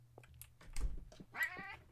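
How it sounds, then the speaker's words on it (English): A cat gives one clear meow and some softer short vocal sounds in a quiet room. The sounds are close but faint, with light tapping noises now and then in the background. "Meow."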